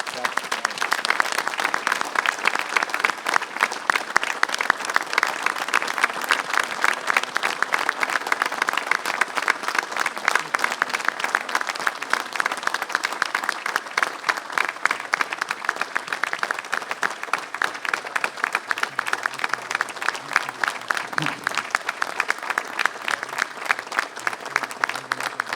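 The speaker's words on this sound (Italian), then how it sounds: "Un applauso dobbiamo farglielo grande" A crowd at an Alpini ceremony at Bosco delle Penne Mozze in Cison di Valmarino gives long, sustained applause, with rhythmic clapping that stays loud and steady from start to finish.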